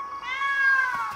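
Cartoon kitten giving a single drawn-out, high, plaintive meow, close and clear, rising slightly before trailing off.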